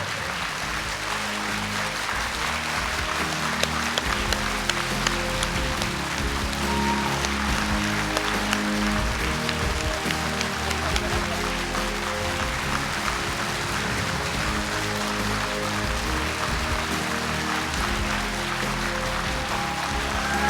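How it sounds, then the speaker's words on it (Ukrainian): Audience in a hall applauding teachers at an awards ceremony, dense sustained clapping from many hands, steady and loud throughout without pause. "А ми їм аплодуємо."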